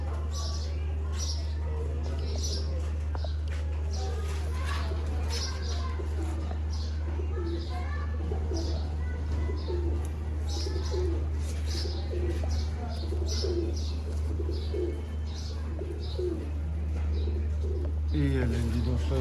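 Female pigeons with feathered, muffed feet cooing repeatedly in a loft, low soft coos recurring over a constant mechanical hum, with occasional chirps nearby.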